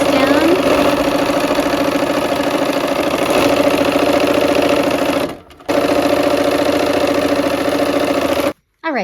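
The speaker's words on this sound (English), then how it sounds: "We're gonna sew this down." A sewing machine stitches down fabric strips in a loud, steady, fast whirring run close by, with a brief drop midway and a short stop near the end.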